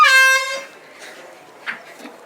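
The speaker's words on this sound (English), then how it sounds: "We're gonna get Anthony with the air horn." Air horn blasted during a prank: a loud, close, brassy honk lasting about half a second, cutting off into room noise and faint movement.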